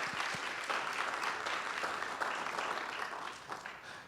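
An audience gives steady, dense applause for a performer at a live music event. The clapping holds at an even level for about four seconds and eases slightly near the end.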